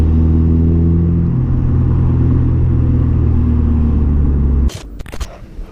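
A Honda Civic Si FA5 engine drones loud and close with a steady, rising pitch as it revs, then cuts off abruptly near the end, leaving brief rustling knocks.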